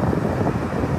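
Strong sea wind gusting across a sandy beach in Kenting, Taiwan, during a windy outdoor arts festival, a steady loud roar of buffeting air on the microphone with no voices.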